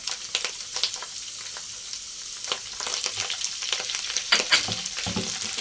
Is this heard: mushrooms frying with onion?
yes